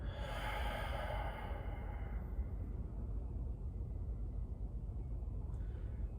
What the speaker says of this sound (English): Closed mouth inhale, open mouth exhale.